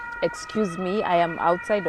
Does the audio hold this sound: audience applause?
no